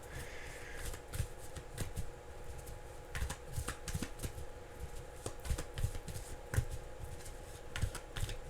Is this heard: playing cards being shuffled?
yes